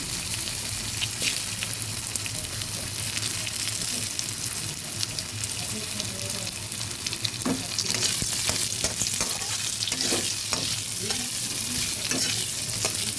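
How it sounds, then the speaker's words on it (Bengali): A steady sizzle of potatoes frying in a pan, with the scrape and clatter of stirring growing busier toward the end. "আলু ভাজা নেড়ে দিচ্ছি"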